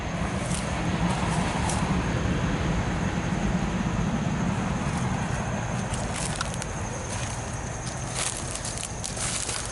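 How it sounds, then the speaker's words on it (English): Steady rumbling roar of a train running past nearby, with continuous low rolling noise and occasional metallic clanks and squeals, no voices. "There's a train running through."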